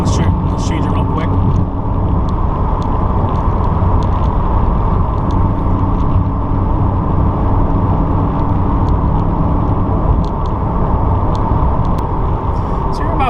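Borla ATAK exhaust on a C8 Corvette cruising with the valves closed, a steady low drone and road rumble held at constant level throughout, with someone talking over it.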